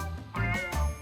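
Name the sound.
stray cat meowing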